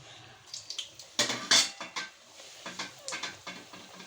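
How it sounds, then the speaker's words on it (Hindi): Fried samosas lifted from the pan and dropped into a serving dish, a series of sharp metallic clinks and clatters of utensil against pot, close and fairly quiet. "अब निकालेंगे अपने समोसों को और डालते जाएंगे अपनी डिश में।"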